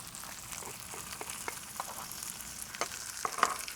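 Steady soft sizzling and crackling close by as salsa verde hits a hot loaded molcajete, with occasional small pops and spatters over a continuous hiss.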